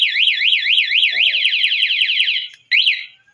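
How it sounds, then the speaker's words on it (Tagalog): A car alarm being installed and tested wails in a loud, rising-and-falling electronic tone right up close, briefly cutting out near the end before resuming, with a short voice murmur partway through. "O, yun o. Nag-a-alarm siya o."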